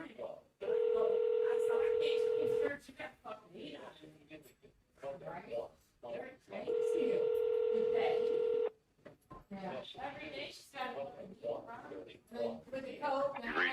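Two long, steady ringback tones from a phone call placed to a sheriff's office, each lasting about two seconds, with a person talking in between and afterward.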